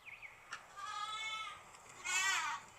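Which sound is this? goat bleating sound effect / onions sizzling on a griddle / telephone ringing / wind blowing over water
goat bleating sound effect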